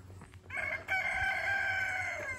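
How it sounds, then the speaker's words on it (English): A rooster crows once, a long clear call at moderate distance on a garden property with a chicken coop and horse field, over soft outdoor background noise. "Can you hear the rooster crowing?"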